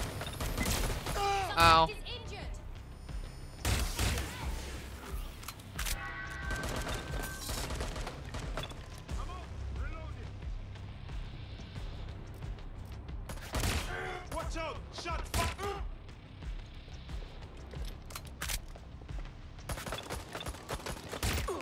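Gunfire from the video game Watch Dogs: Legion comes in repeated loud bursts and fusillades of shots separated by short pauses, with someone talking and exclaiming over it.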